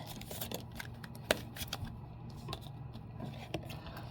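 Quiet riffling and soft card snaps as a deck is shuffled, with light flicks and taps at irregular intervals.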